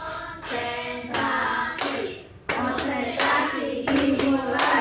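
A group of children clapping hands in a classroom, bursts of fast, loud, overlapping claps in several rounds with short pauses between, close and lively.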